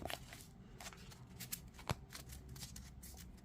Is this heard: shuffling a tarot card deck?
yes